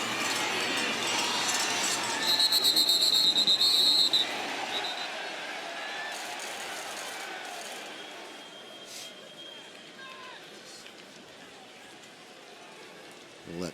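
At a CFL football game between the Toronto Argonauts and Montreal Alouettes, a referee's whistle gives a sustained shrill blast over steady stadium crowd noise while a commentator talks.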